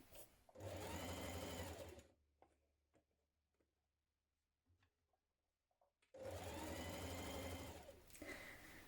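A sewing machine stitches a blouse seam in two loud, fast, buzzing runs, one near the start and one near the end, separated by a quiet stretch of soft fabric handling and light clicks.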